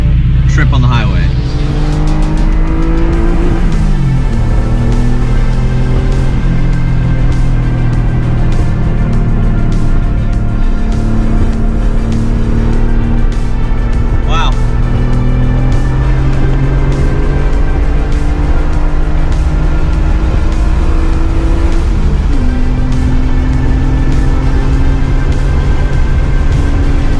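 A Porsche 911 Safari project car drives on a highway, its engine droning loud and steady from inside the cabin, with gear changes shifting the pitch and people talking over the noise.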